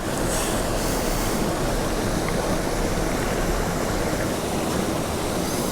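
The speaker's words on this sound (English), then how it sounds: "As you can see, we're approaching this massive waterfall" A massive waterfall in southern Colorado roars as a dense, continuous broadband rush of water, loud and steady throughout with no voices.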